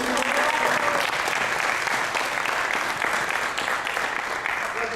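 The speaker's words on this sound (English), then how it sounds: "Give them a round of applause." Audience applause at a startup weekend event, sustained and dense, steady at full volume for the whole stretch with no talk over it.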